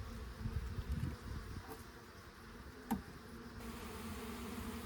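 Bees buzz softly around an open hive during an inspection, a faint, continuous drone with a few individual insects passing close by and a single sharp click midway.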